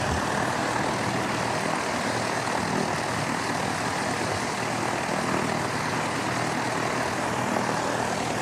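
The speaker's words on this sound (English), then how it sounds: "ATR heading off to Napier, Z5774." An ATR turboprop airliner departing Christchurch Airport for Napier, a steady broad engine and propeller roar that stays loud and even throughout, heard outdoors with no voices.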